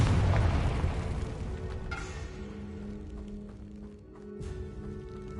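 A heavy booming blast from the Confringo spell in Hogwarts Legacy erupts close and loud at the start, then decays into a rumbling tail with lingering tones and a faint later thump.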